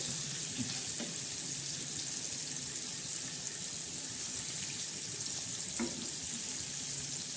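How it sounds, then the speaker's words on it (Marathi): Mackerel fries in a pan as hot oil is spooned over the fish, giving a steady, fairly soft hissing sizzle with a few faint clicks, close-up and without talk. "हे जे तेल आहे ना, हे तेल असं याच्यावर टाकायचं मच्छीवर"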